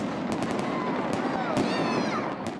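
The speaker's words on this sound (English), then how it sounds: "Cue the fireworks." Fireworks pop and crackle over the Allegheny River at a downtown Pittsburgh Light Up Night celebration, with several sharp bursts over a dense, continuous rumble of crowd and bangs.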